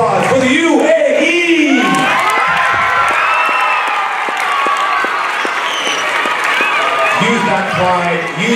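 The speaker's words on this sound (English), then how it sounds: "And a great big applause for the UAE!" Elementary school children at a National Day assembly cheer and clap for the UAE, a loud roar of shouts, whoops and steady applause, with an adult voice talking at the start and end.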